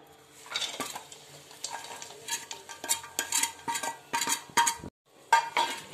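A metal spoon scrapes and clinks against a pan in irregular bursts, stirring jaggery in ghee, close by, with a brief pause near the end and no talking.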